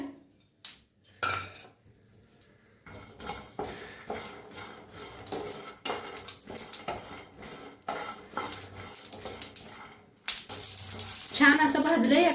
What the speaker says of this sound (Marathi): छान असे शेंगदाणे भाजूया भाजायला लागलेले आहेत आता ह्याच्यातच तिळबी बी भाजून घेऊया